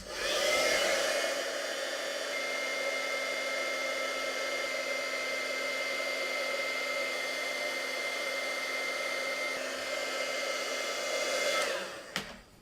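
A heat tool melting clear embossing powder on stamped paper, running as a steady, fairly soft blowing whir for about twelve seconds before clicking off, with no talk.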